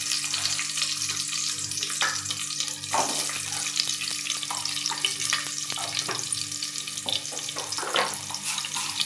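Mustard seeds, urad dal, cumin and chopped onion crackle and sizzle in hot coconut oil during a tempering, a steady bright frying hiss with occasional louder pops, close and without talk.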